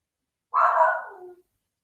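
A dog indoors lets out a single short bark or yelp, close and fairly loud, with quiet before and after.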